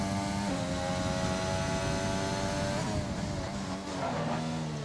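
Formula One race car in the F1 2020 game at Silverstone, its engine whining at high revs and shifting pitch as it brakes for a corner, with a steady, loud drone throughout.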